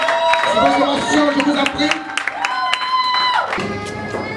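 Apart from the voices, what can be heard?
wedding congregation applauding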